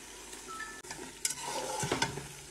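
Peeled tomato goes into a cooking pot for Tunisian couscous, followed by soft stirring scrapes and a gentle sizzle, quiet and close with a few light clinks.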